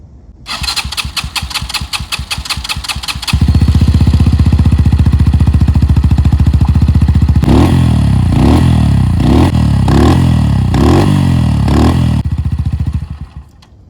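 A Kuba Race 125 motorcycle engine cranks with rapid mechanical clatter, catches and settles into a loud, deep idle, then revs sharply in a series of repeated throttle blips close by, with no talk over it.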